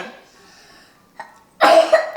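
A few harsh, close coughs burst out near the end after a stretch of quiet, faint background murmur.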